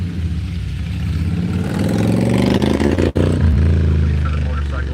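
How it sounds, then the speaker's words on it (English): A motorcycle passes near a beach, its mid-pitched engine droning steadily and rising and falling as it goes by, with a brief dip partway through and a muffled voice faintly underneath. "Wait for the motorcycle to pass."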